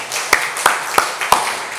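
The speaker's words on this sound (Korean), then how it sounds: "하나님께 영광의 박수 돌려드리겠습니다" A church congregation applauds during a Sunday worship service, with a few sharp, evenly spaced claps standing out above a steady wash of lighter clapping, heard up close without talk.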